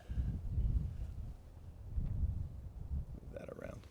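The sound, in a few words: gust of wind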